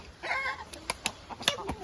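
A rooster of a handsome, unusually coloured breed clucks near a house, giving a few short, fairly close calls mixed with sharp clicking notes over a quiet background.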